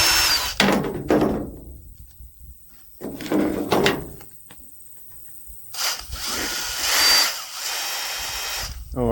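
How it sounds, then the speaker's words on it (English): A power drill with a bent bit whirs in several close, loud bursts, starting and stopping with short pauses, the motor strained and uneven as it bites, during work on a 1991 Ford F-150. "That means the drill bit is bent."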